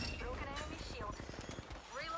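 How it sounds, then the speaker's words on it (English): Rapid gunfire from the video game Apex Legends, a quick run of clipped shots in a rhythmic burst, heard faintly under excited player chatter. "I made one shot"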